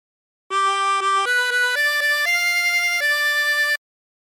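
A 20-hole tremolo harmonica plays a La Cucaracha phrase, its bright wavering reed notes stepping up in short then longer held tones, solo and near.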